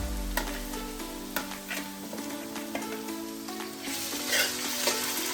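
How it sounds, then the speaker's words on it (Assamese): Onions with ginger and garlic sizzle and crackle steadily in a pan while being stirred, with scattered pops and scraping clicks over a continuous frying hiss, close and moderately loud, no talking. "পিঁয়াজখিনি হ'ল, মই আদা ৰচুনখিনি দি দিওঁ"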